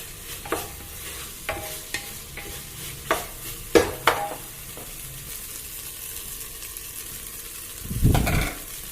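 A spoon scrapes and clinks against a pot while stirring rice with coconut milk, in irregular strokes over a soft, steady background hiss, with a louder scrape near the end.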